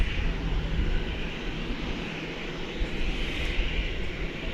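A Qatar Airways airliner rolls out at DFW Airport with a continuous broad jet roar that holds steady and fairly loud from a moderate distance, with no voices.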